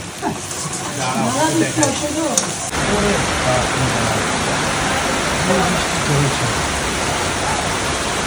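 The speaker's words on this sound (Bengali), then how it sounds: "বৃষ্টিটা কি পরিমাণে বৃষ্টি হচ্ছে" Heavy monsoon rain pours down in a continuous, loud hissing roar. Someone talks over it at first, then the rain carries on alone.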